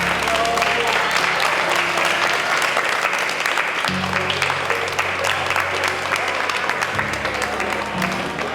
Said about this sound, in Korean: 우리 모두를 위해서 박수를 한번 치도록 하겠습니다